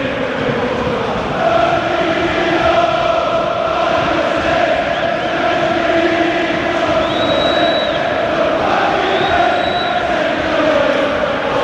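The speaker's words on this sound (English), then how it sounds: "Festive cheer from those who follow the team from Old Trafford." A stadium crowd of Manchester United supporters at Aston Villa during a Premier League match, a dense, steady roar of far-off cheering and chanting that fills the whole stretch.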